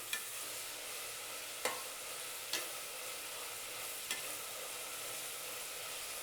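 Vegetables sautéing in a pan for a South Indian vegetable sagu, with a steady soft sizzle and a few sharp scraping stirs spaced through it, no voices.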